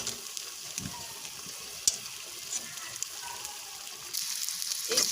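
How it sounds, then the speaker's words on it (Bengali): Eggs fry in broken pieces in a pan on a stove, giving a steady soft sizzle with occasional faint scraping and small pops, louder hissing near the end. "আর এই চুলা ডিম ভেজে নিচ্ছি আমি এভাবে টুকরো টুকরো করে"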